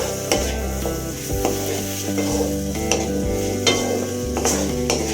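Cooked moong dal for Chettinad ukkarai sweet is stirred in a pan, with steady scraping and sizzling and sharp spoon knocks against the pan about once a second.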